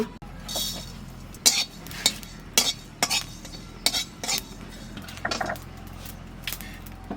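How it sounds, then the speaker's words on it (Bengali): A handful of cumin seeds dry-roasted in a pan for a rural Bengali dish, with a run of sharp scraping clinks from stirring against the pan at an irregular rhythm over a low steady background. "শুকনো খোলায় অল্প কটা জিরে বাজিয়ে নেব"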